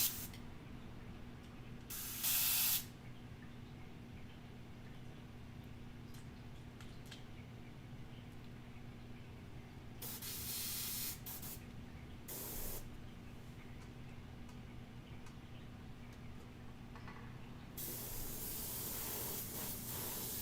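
An airbrush sprays paint in several separate hissing bursts, short ones early and a longer sustained spray near the end, with a faint mechanical hum between them.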